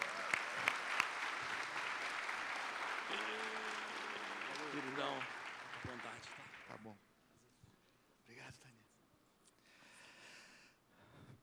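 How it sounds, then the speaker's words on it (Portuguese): A church congregation at an evening family-conference service claps, sustained applause with voices singing or calling over it, then fading abruptly to a quieter room with scattered sounds and breaths. "Você pode aplaudir o Senhor?"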